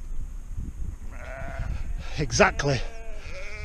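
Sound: sheep bleating

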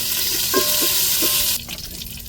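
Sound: chicken and curry leaves frying while being stirred

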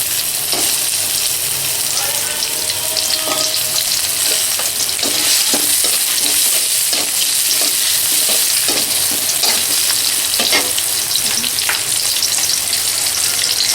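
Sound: chopped onions frying in hot oil

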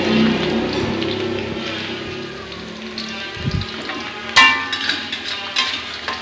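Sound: frying food in a pan

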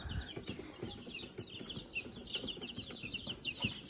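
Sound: homestead chickens clucking

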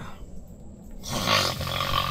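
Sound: person snoring

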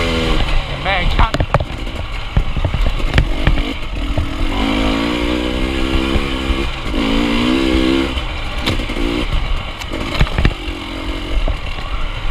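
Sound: dirt bike motorcycle engine while riding

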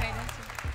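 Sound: audience applause for singer

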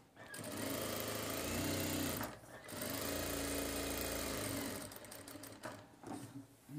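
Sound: sewing machine stitching a shirt collar

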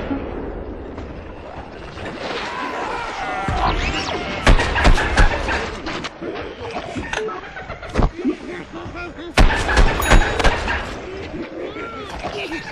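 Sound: scientist's sticky explody ball exploding, video game Plants vs Zombies Garden Warfare

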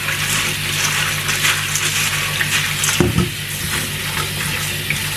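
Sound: washing Chinese herbal soup ingredients in water

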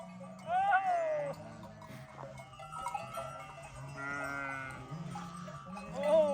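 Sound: sheep following a shepherd

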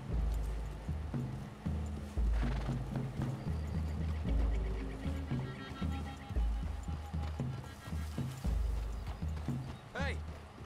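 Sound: horses' hooves while riding, from video game Red Dead Redemption 2

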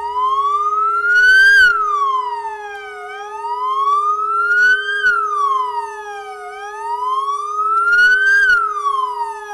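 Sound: memorial sirens wailing

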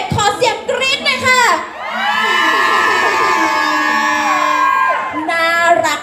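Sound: concert crowd screaming

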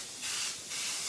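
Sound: body paint spray being blown through to clear a clog

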